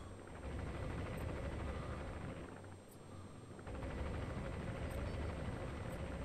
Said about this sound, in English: I would super enjoy it if you were able to kill that chopper.